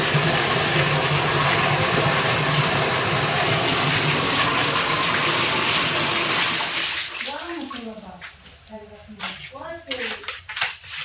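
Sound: water poured into a bucket for washing

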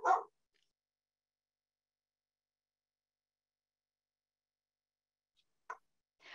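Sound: dogs barking

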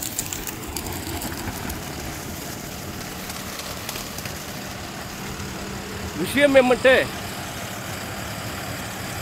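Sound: HPCR 5405 63hp tractor engine running

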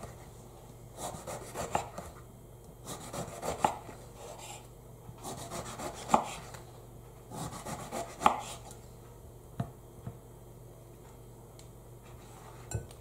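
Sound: knife cutting eggplant into sticks on board

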